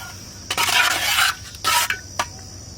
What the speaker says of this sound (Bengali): খিচুড়িটা একটু নাড়িয়ে নিই।